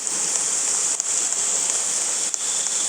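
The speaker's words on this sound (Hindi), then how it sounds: "आज फिर से बारिश हो रही है" Rain falls steadily at night, a constant bright hiss of drops that stays even and unbroken throughout, with no one speaking.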